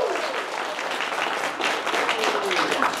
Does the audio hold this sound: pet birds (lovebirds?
no